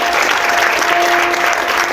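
Wedding guests break into loud, sustained applause as the bride enters, a thick wall of clapping from a large crowd with a faint held tone running underneath.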